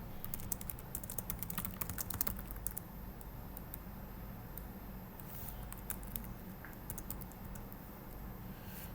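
Rapid typing on a computer keyboard during command-line work, a quiet, steady patter of close key clicks with a few louder taps, continuous over faint low background hum.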